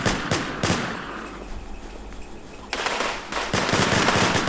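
Rapid bursts of automatic gunfire crackle loudly in the zombie video game Infestation, with a brief lull before the shooting picks up again in dense, continuous volleys.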